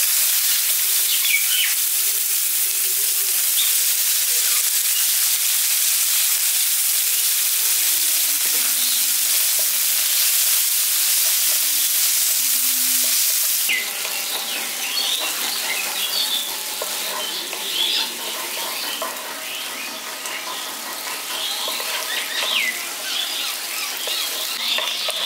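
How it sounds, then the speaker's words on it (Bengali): Three chopped onions frying in hot oil in a pan with garam masala, a steady loud sizzle and crackle running throughout, shifting to a denser bubbling hiss partway as they cook, with no talking. "পেঁয়াজটা এখানে দেখুন লালচে করে ভেজে নিয়েছি।"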